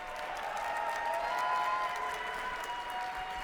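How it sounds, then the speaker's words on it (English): Audience applause at a cosplay contest as the judges come on stage, a steady, full round of clapping from a crowd that swells slightly in the middle and holds throughout. "Taalia and Vic, let's give a warm round of applause."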